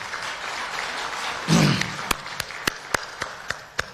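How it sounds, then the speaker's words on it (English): An audience at a Ugandan government ministry event breaks into a short burst of applause that quickly thins to a handful of separate, evenly spaced claps over a quiet room. "allow me to request you to clap for yourselves"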